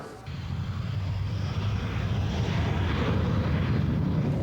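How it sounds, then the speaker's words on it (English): A photographic reconnaissance version of the F9F Cougar jet flies over Lebanon, heard as a steady, loud engine roar with broad rushing noise that holds level throughout, with no talk. "photographic versions of the F-9F Cougar took to the skies over Lebanon"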